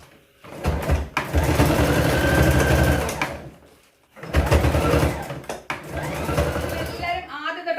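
A sewing machine stitches folded fabric for a skirt made from old shirts, running in two long whirring bursts with a brief stop between them and a short third run near the end.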